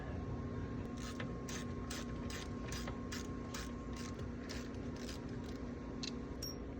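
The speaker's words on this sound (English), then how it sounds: "Now we'll get our caliper off." A ratchet clicks in quick bursts while brake caliper bolts are loosened on an old pickup truck. About a dozen rapid clicking strokes come in a fairly even rhythm over a steady low hum.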